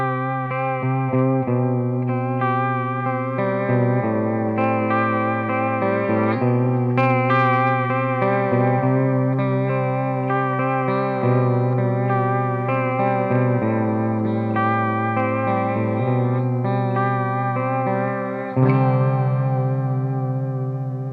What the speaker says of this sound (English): I'm using a very slow vibrato with increased depth to give me almost a chorus-like sound.